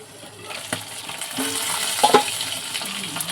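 Fish frying in hot oil sizzles and crackles steadily, with a few sharper pops and some stirring clatter rising partway through. The sound is close and continuous, and no one speaks.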